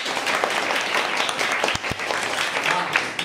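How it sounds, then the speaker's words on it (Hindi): A class of students claps for their teacher, a dense, continuous burst of applause heard up close for a few seconds. "तो तुमने सर जी के लिए ताली नहीं बजाई?"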